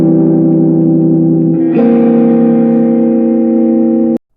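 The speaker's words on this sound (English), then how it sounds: "This is an overdrive pedal. It does what happens when you turn your amp too loud, but without being too loud." An electric guitar played through an overdrive pedal gives loud sustained distorted chords, one held tone shifting to a brighter chord partway through before cutting off abruptly, with no talking.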